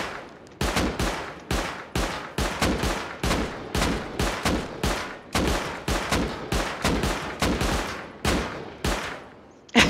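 Rapid bursts of gunfire in a video game, fired at an enemy turret in repeated volleys of loud, sharp shots with brief gaps between them, no talk over them.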